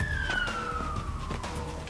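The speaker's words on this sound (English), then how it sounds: "I heard the siren." A police siren from the video game Splinter Cell Conviction sounds as one falling electronic wail, moderately loud against a busy game background of thuds and ambient noise.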